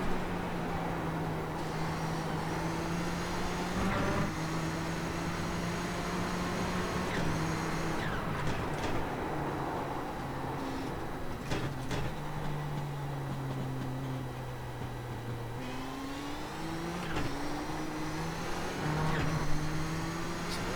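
Nissan GTP ZX-Turbo race car running at full power in iRacing around Mid Ohio's chicane, a steady loud engine drone with pitch rising through gears and dropping on shifts, continuous and close throughout.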